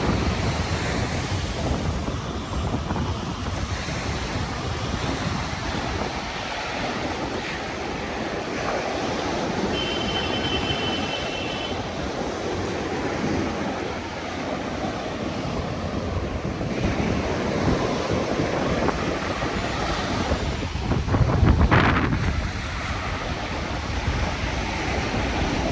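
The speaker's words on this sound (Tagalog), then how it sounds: "Grabe oh, namumuti ang alon." Strong surf pounding the shore at Manila Bay's Dolomite Beach in heavy wind, a steady loud roar of breaking waves with gusty wind buffeting the microphone throughout and a brief louder crash near the end.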